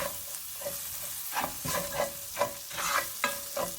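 Flour being stirred into a hot frying pan for pork chop gravy, a spoon scraping in repeated strokes over a soft, steady sizzle, close and moderately loud.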